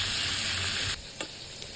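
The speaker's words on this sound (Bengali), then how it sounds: "এবার আস্তে আস্তে করে ভাজবো, কারণ ঝিঙার মধ্যে অনেকই জল চলে আসে" Ridge gourd pieces fry in hot oil, a steady dense sizzle that drops suddenly to a quieter crackle partway through, with a couple of brief clicks and no talk.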